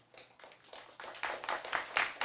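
Audience members clap at a city council study session, a scattered run of hand claps that starts soft and grows steadily louder over about two seconds, heard from across a meeting room with no talking.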